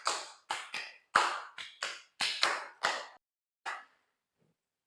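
Children in a classroom clap out a short rhythmic group pattern: a run of sharp, fairly close claps in uneven groupings, then one last clap after a brief pause, with no talking.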